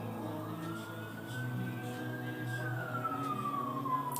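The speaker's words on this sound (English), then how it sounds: "you hear the sirens, right?" A distant emergency siren wails, its pitch rising then falling in a slow sweep over a low background rumble of traffic.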